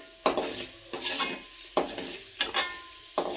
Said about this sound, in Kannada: ಸ್ವಲ್ಪ ಕಡಲೆಬೇಳೆ ಹಾಕೊಳ್ಳೋಣ ಒಂದು ಹಿಡಿಯಷ್ಟು ಇದು ಚೆನ್ನಾಗಿ ಆಯಲಲ್ಲಿ ಫ್ರೈ ಆಗಲಿ